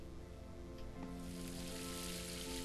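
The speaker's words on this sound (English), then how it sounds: "Soon I heard the sizzling of frying meat" Steak frying in a pan inside a game scene gives a steady, close sizzle, a broad hiss that swells louder after the first second and sits under a soft background tone.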